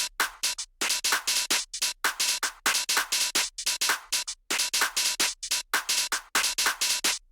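Chopped drum loop groove built from sliced hits in FL Studio Slice X for a UK garage track, playing alone as a steady, punchy stream of short, bright percussive hits in a swung rhythm.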